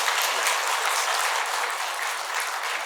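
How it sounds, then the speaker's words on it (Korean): A church congregation claps to welcome a newly registered member during a Korean worship service, a dense, steady round of applause filling the room for about three seconds with no talk over it. "우리 박수로 환영하도록 하겠습니다"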